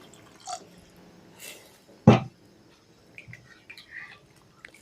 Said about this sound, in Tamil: இப்போ குழம்புக்கு தேவையான அளவு தண்ணி சேர்த்துக்கலாம்.